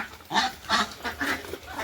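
About three geese and eight Chinese ducks among eighteen common ducks call in four nasal, honking bursts at a steady pace, fairly close, over faint background noise.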